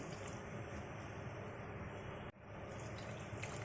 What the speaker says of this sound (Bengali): এখন আমি এর ভিতরে দিয়ে দিব পানি।